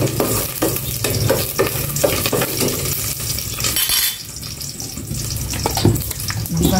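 Garlic frying in hot cooking oil gives a steady, fairly loud sizzle, with stirring scrapes and light utensil taps running throughout.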